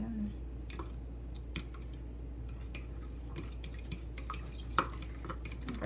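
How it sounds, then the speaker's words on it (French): Small fork beating and clinking against a bowl as a mixture is stirred together, light rapid taps and scrapes repeating irregularly over a steady low hum, close up. "à l'aide d'une petite fourchette, on va juste battre le tout ensemble pour être sûr que c'est bien dilué"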